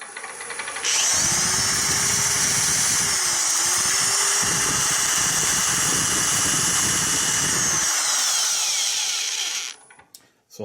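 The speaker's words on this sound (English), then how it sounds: "So what I like to do is use a sander on here before I use any metal tools to get rid of the edges" A power sander smooths the edges of a workpiece, starting abruptly with a loud, sustained high-pitched whir that shifts slightly in pitch, then winds down to quiet handling noises.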